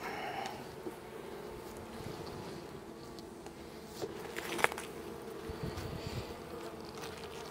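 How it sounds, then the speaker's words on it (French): A wintered-over honeybee swarm hums in a steady, close buzzing drone throughout, with a few brief louder passes of individual bees near the microphone and light wind noise. "Donc, c'est un essaim hiverné."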